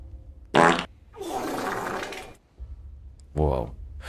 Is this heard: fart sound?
yes